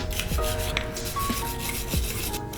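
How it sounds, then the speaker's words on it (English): A brass or bronze brush scrubs burnt-on carbon off an AK-47 gas piston in short, close, rasping strokes, with faint metallic squeaks between them. "we're going to use our brass or bronze AP brush to get that built up burnt on carbon off"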